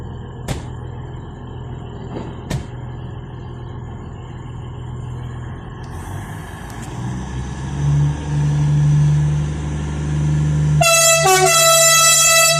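A TCDD train departs Selçuk station in Turkey, rumbling and building as it pulls away, with a couple of sharp clanks early on, then a loud, sustained horn blast near the end.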